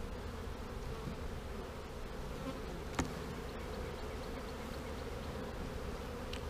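A dense, steady buzz of many honeybees swarming around an opened hive close by, continuous throughout with one brief sharp tap midway.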